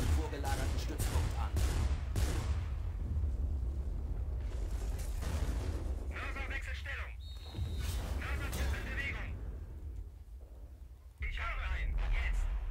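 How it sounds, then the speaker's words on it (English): Mortar fire and explosions in Company of Heroes during a 4v4 online match, with booming blasts and bursts of gunfire that roll on under players talking throughout. "I'll send him a mortar."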